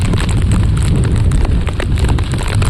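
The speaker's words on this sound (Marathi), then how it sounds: "पाऊस जोरात चाललेला आहे" Loud, dense monsoon downpour close by on an open plateau, a steady roar of rain with rumbling, wind-like low noise and scattered sharp spatters throughout.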